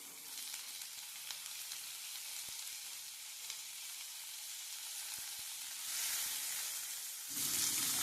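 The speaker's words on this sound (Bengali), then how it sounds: "ফোড়নটা ভাজা হয়ে গেছে এবার আমি দিয়ে দিচ্ছি কেটে রাখা আমগুলো" Raw mango pieces added to hot oil with fried tempering spices for a chutney, a steady close sizzle and crackle that swells near the end, with no talking.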